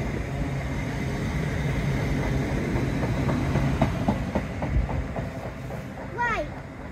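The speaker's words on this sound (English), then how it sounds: "Because that freight train right ahead of it" A freight train rumbles past at low speed at Cramlington railway station, steady broadband noise with faint rhythmic clicks of wheels on rail joints, a high squeal near the end, voices murmuring.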